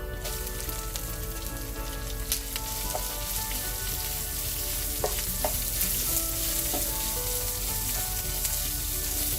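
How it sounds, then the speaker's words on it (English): Onions sauté in a pot with whole spices, peppercorns and fennel seeds, giving a close, steady sizzle with occasional scraping stirs and small crackles throughout. "you don't have to saute this down too much"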